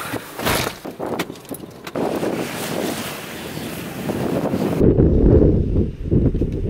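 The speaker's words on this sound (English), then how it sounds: "So it's windy over here" Steady wind of about 15 to 18 miles an hour buffeting the microphone while fly fishing, a rough roaring rush that grows heavier and lower toward the end, with no talking.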